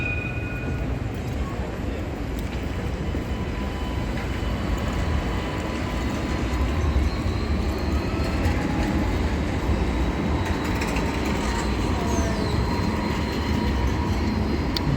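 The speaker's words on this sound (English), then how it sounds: "The trams are stopped here." Trams stopped on a busy Sydney street outside the QVB produce a continuous rumbling hum with faint squeals and clatter. Steady street noise runs underneath for the whole stretch.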